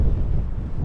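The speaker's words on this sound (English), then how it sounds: "A little windy today" Low rumbling wind buffets the microphone in a brief, loud, steady gust while touring on a Kawasaki Ninja 500 SE motorcycle in the mountains of British Columbia, with no voices.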